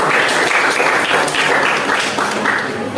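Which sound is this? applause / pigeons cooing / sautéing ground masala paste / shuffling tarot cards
applause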